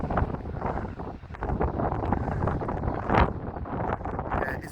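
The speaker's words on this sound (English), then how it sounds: "Yeah, it's a bit blowy" Strong gusting wind buffets the microphone on Blackpool North Promenade, a continuous loud roar that swells and dips, with a sharper gust midway.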